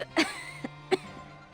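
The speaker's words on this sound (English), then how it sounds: "Miss Wangjun, you're coughing harder than you were before." A woman coughs twice in short, breathy bursts, followed by a faint throat sound, close and fairly quiet.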